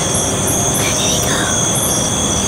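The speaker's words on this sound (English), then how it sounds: "The train. You can hear it at night." A train sound effect plays during a live ghost story show, a loud, continuous rumble of rolling rail wheels with a high metallic squeal rising over it, steady throughout.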